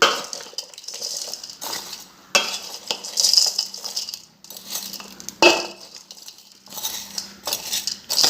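Salted mango pieces stirred in a vessel, with irregular clinks and scrapes of a spoon against the container and soft shuffling of the fruit, close and fairly loud in bursts.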